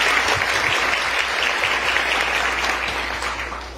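A church congregation applauding during a Catholic sermon, sustained dense clapping from many people, loud and steady, tapering slightly toward the end over a low background hum.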